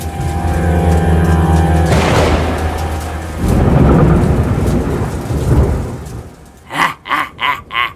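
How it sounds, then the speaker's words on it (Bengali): A cartoon thunderstorm: heavy rain and a long, loud rolling thunder rumble give way to a sharp crack and further rumbling, then four short percussive thumps near the end. "মনে হচ্ছে বাইরে ঝড় উঠেছে রে"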